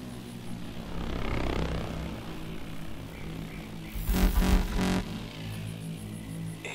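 A drone hums steadily overhead in Call of Duty: Advanced Warfare, a continuous engine-like drone with a brief louder surge midway, with no talk over it.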